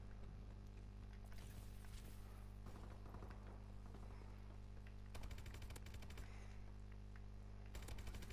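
Video game gunfire in an Advanced Warfare online match strikes the player: rapid automatic bursts crackle in several clusters, the loudest around the middle and again at the end, over a steady low game hum with no talk.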